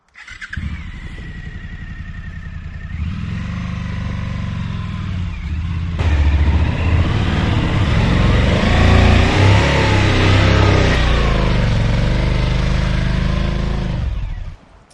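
A Suzuki V-Strom 1050 DE adventure motorcycle churns through deep sand off-road, its engine droning loud and steady for the whole stretch, surging and revving harder midway as the rider pushes on.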